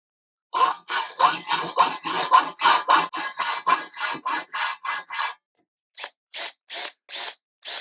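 A hand file rasps across metal parts for a Jaguar XJC V12 manual conversion: about fifteen steady back-and-forth strokes, a brief pause, then five more, close and fairly loud with no talk.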